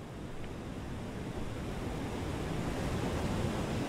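Ocean surf washing in salt water, a steady broadband wash that swells slightly after the first second and stays close and continuous, with no voices.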